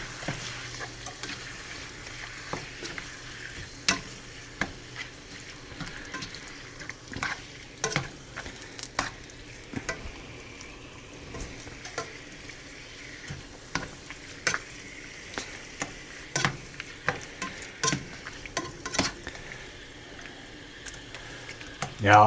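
Steak bites sear and sizzle in a hot pan for garlic butter steak bites, a steady frying crackle broken by frequent sharp pops and scraping stirs, fairly close and moderately loud throughout.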